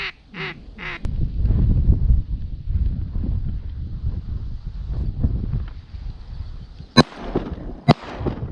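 Two shotgun blasts ring out sharply during a solo mallard hunt over a decoy layout, following ducks quacking close by at the start and a stretch of rustling.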